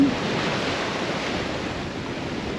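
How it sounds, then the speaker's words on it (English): Strong 25-knot wind at sea blows from astern of a sailing boat, a loud continuous roar of wind buffeting the microphone with rushing waves underneath. "we currently have 25 knots of wind from pretty much directly behind us"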